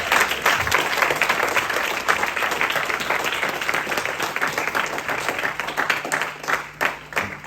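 A church congregation applauds in sustained, dense clapping that fills the space at moderate distance and rolls on evenly throughout.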